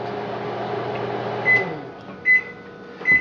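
A microwave oven hums as it heats a frozen breakfast croissant sandwich, then three sharp completion beeps sound as the hum stops.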